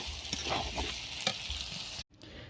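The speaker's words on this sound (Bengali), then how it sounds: "গাজর, বিনস আর আলুটাকে নুন হলুদ দিয়ে নেড়ে নিচ্ছি।" Carrots, beans and potatoes with salt and turmeric are stirred in a hot pan, a close scraping and sizzling that carries steadily before cutting off abruptly near the end.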